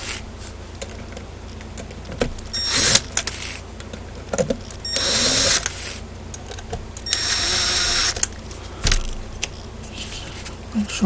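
A power tool tightens screws on a Kenpro KR-680DC antenna rotator assembly in loud, close bursts of whirring of varying length, separated by short pauses and small clinks.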